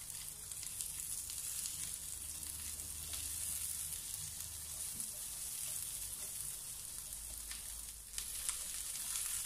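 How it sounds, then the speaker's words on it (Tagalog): Onions sautéing in a pan, a faint, steady, crackling sizzle heard close up with occasional soft stirring sounds, continuous and without speech. "let's saute this for a few seconds hanggang sa lumabas po ang aroma ng ating sibuyas"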